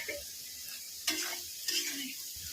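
Soaked raisins and fried nuts are stirred in a pan of frying sago pulao. A low hiss runs under two sharp scraping strokes of a spoon, about half a second apart.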